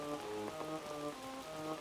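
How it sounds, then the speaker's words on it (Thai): Rain falls in the video game Animal Crossing, a steady light pattering under a gentle melodic game tune, with no one talking. "โอ้ฝนตกด้วย"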